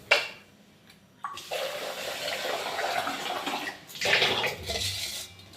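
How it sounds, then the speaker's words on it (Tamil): A cooking pot scrubbed and rinsed under a running tap in a home kitchen during morning cooking: broadband splashing water with metal scraping, starting after a brief quiet moment and surging again near the end. "இது மட்டும் நல்லா கழுவி"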